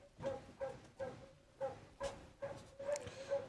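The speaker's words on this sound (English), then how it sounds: "Sorry about the freaking dog barking." A dog barks in short repeated bursts, roughly eight yaps spaced about half a second apart, fairly close and moderately loud, with some whimpering yips mixed in and no talk over it.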